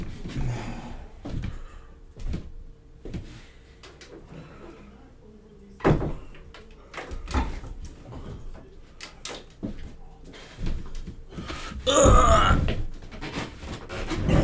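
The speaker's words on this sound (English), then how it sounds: "let me shut the door" A door is pushed shut with a few thuds and clunks, mixed with scattered handling knocks and shuffling sounds at close range, with no talk.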